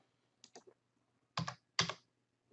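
Keys are pressed on a computer keyboard in a few quiet, close clicks: a quick cluster of taps, then two firmer separate presses, with silence between.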